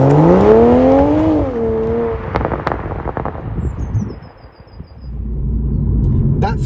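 A 2020 Toyota Supra's 3-litre straight-six paired with a ZF 8-speed automatic drives past loudly, its engine note rising in a revving sweep before easing into a rumbling, fading roll with faint whirring.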